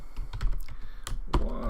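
Keys on a computer keyboard tapped in a short burst while a password is entered, a quick run of light close clicks that ends in one sharper, louder press.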